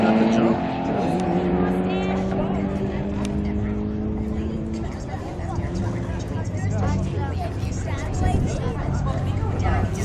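A Volkswagen Golf R with a DSG gearbox and APR Stage 2 tune drag races a Subaru down a strip at about 5000 ft elevation. Loud engines roar and rise in pitch, and voices talk over the noise.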